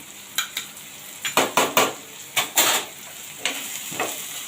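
Turmeric, garam masala and coriander-cumin powder frying in a pan on low gas for a drumstick curry, stirred with a utensil that gives about ten sharp scraping clinks in irregular bursts over a quiet sizzle.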